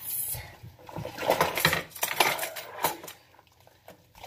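Dishes clatter as they are rinsed and stacked into order, with scattered clinks and knocks of crockery and cutlery over running water, close by and fairly busy throughout.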